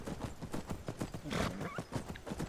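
A horse in the Skyrim video game clops along with steady rhythmic hoofbeats and gives a short neigh partway through, close and clear with no talking.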